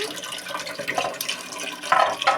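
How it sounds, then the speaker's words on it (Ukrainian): Tap water runs into a container at close range, making a steady, splashy gurgle with small surges and drips throughout. No voices are heard over it. "Е, ось вода набирається."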